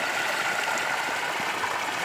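Water with fertilizer mixed in runs from a pipe tap in a sugarcane field, a steady, faint, even hiss with no voices.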